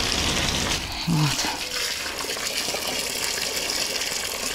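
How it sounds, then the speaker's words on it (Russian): Water gushing from a well borehole outdoors, a steady broadband rush running through the whole stretch, with a brief spoken word near the start. "Ой, как льёт-то. Какой фонтан у нас с этого, со скважины."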